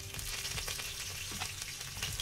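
Green chillies fry in hot oil with garlic in a pan, giving a dense, even sizzle with soft crackles throughout, close by and without speech.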